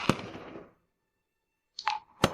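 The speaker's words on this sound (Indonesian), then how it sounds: "Itu kembang api." Fireworks burst at an opening celebration: one loud, close bang that rumbles away into silence, then a rising whistle and a second sharp crack.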